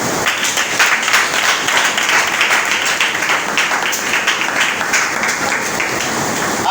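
A congregation at a prayer meeting applauding: sustained, loud, dense clapping from a crowd, continuous and even throughout.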